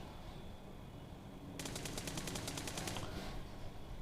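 A burst of rapid automatic rifle fire from a QBZ or M416 in a shooter video game, a fast even string of about a dozen close shots over roughly a second and a half, set over a low game ambience.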